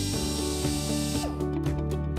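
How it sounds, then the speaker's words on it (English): A power drill fitted with a 1/8-inch bit bores a small pilot hole for a safety gate pivot bracket, a steady high whine with rhythmic pulsing, close and clear, tapering off near the end. "Using a drill with a 1/8 diameter drill bit,"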